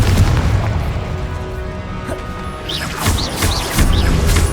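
A Confringo blasting curse explodes in the Hogwarts Legacy video game, a loud booming crash with rumbling debris that sustains throughout, topped by bright magical whooshing tones toward the end.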